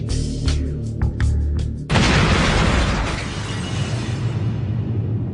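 A bomb detonates in a single loud, sudden blast that cuts off the low rumble and scattered knocks before it, then leaves a long, roaring wash of debris and noise that slowly fades.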